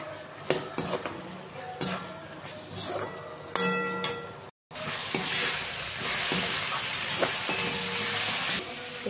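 Fish frying in a pan with turmeric powder and chili, a loud continuous sizzle that surges after stirring and utensil clinks, steady and close throughout.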